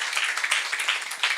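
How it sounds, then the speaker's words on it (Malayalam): An audience at an election gathering claps in a brief, dense burst of many hands, steady and moderately loud throughout. "ഐ പ്ലസ് ഒരു നല്ല ക്ലാപ്പ് കൊടുത്താട്ടോ നിങ്ങൾ"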